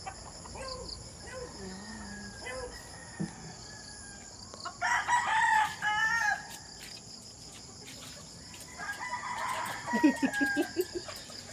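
Gamecock roosters crow in long drawn-out calls at a moderate distance, with breeding hens clucking and insects chirring steadily in the background.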